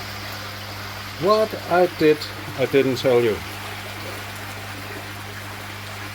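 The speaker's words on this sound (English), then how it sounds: "filling the pond up again" A pump topping up a fish pond keeps a steady low hum and faint watery hiss going, while someone speaks briefly over it in the middle.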